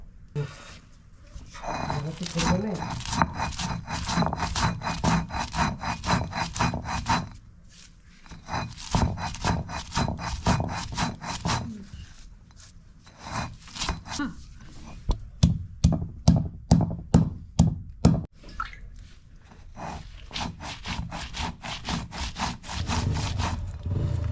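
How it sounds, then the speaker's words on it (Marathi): Salt, onion, roasted coconut and coriander being ground into a paste on a stone, a steady back-and-forth scraping rhythm that repeats in quick bursts with short pauses, close and fairly loud, with some background noise. "तर हे बारीक वाटून घेऊया"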